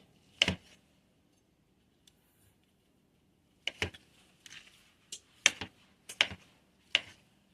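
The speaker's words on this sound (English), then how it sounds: "And we're going to do a quick dice on these" A knife dices leftover chicken on a cutting board, giving a few sharp, sparse chopping taps, then a quicker cluster of close cuts, with quiet pauses between and no talking.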